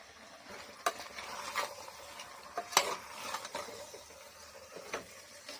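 Biryani masala with chili powder and ghee fries in a pan, giving a low steady sizzle punctuated by repeated scraping and clinking strokes of a spoon, close and without speech.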